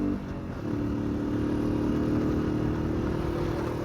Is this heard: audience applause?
no